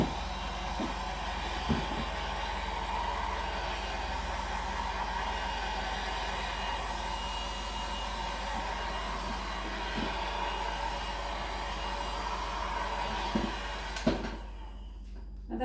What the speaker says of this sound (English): now I'm just going to give it a quick torch with my new heat gun